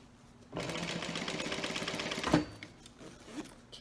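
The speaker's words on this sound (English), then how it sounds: "we're going to top stitch just like we did on the other side" A sewing machine topstitching at the edge of fabric for a zipper pouch runs steadily for about two seconds with a fast, even stitching rhythm, then stops; a faint clunk follows.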